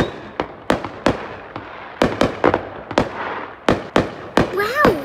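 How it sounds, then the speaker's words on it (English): New Year's fireworks go off in a rapid, irregular series of sharp bangs and pops, some loud and near, others softer, with a rising whistle at the end. "Look, fireworks."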